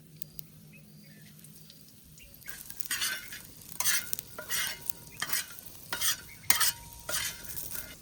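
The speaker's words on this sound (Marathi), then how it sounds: "गरम मसाला, थंडा मसाला हे भुजून घेतो" Garam masala spices roast in a little oil over a village wood-fired chulha, a low sizzle under repeated scraping stirs that come in bursts through the second half, close and with no talking.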